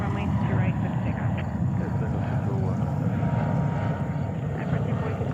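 A jet airliner rolls for takeoff at JFK airport, its engine roar a steady, broad rumble heard from a distance under radio chatter from the control tower.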